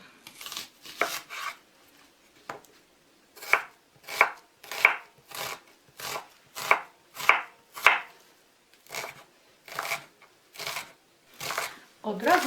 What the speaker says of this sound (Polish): Do podsmażania pieczarek będzie potrzebna cebula, więc teraz pokroję ją w kostkę.